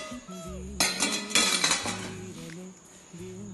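Bel puri scooped into a serving bowl, with a burst of clinking and scraping of utensil against dish, a few sharp metallic knocks, then quieter handling.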